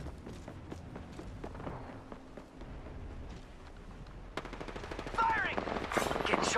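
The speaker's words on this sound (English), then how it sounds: "Firing! Getting shot at." Gunfire in the battle royale game Apex Legends: rapid automatic bursts crack out in quick succession, growing louder and denser toward the end, with footsteps and movement noise mixed in underneath.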